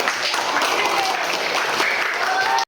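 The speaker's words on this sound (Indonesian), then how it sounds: "Tepuk tangan semuanya." A classroom of students claps together in a brief, loud burst of applause that stays dense throughout and cuts off sharply at the end.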